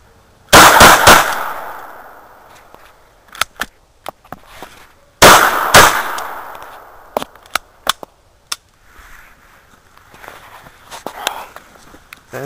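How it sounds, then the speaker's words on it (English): A rusty old handgun fires at a tree outdoors: two loud, sharp shots several seconds apart, each trailing off, with scattered fainter clicks and knocks between. "I think it's time I shoot a gun."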